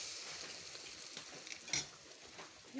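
Soft, quiet sizzle of roti batter frying in an oiled wok, a steady hiss with a few faint scrapes and clinks of the pan.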